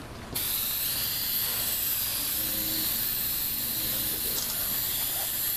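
An aerosol spray hisses steadily and close as a medium wet coat goes onto a car headlight, one continuous bright hiss starting abruptly and holding for over five seconds.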